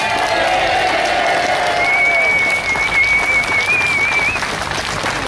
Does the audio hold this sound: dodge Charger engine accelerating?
no